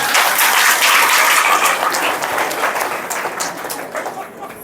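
A class audience claps together in a steady burst of applause that fills the room, loud and close, then thins out toward the end.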